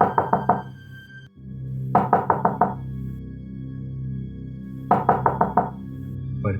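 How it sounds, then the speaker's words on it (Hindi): Knocking on a flat's door in a horror story: three clear sets of rapid knocks, each about four or five raps, separated by pauses over a low, eerie droning background. "उसने 2-3 बार और नॉक किया"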